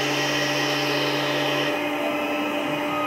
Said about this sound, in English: This is taking half millimeter deep cuts and quite a fast feed rate of 300 millimeters a minute